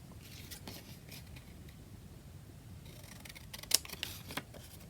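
Scissors snip out a paper ticket for a junk journal, a few faint, crisp close-up cuts over quiet background hiss.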